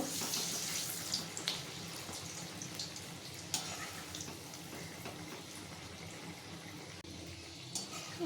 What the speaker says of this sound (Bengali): আমি ফ্লেমটা মিডিয়ামে রেখে বড়াগুলো ভাজছি।